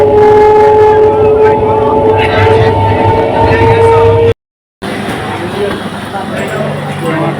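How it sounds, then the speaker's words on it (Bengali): A train rumbles loudly and steadily on a family trip to Bakkhali, close and continuous, with a brief dropout partway through. "এই ট্রেনে উঠে গেলাম আমরা"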